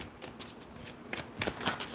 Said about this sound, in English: I'm going to shuffle just off camera so I don't bonk my camera mount again.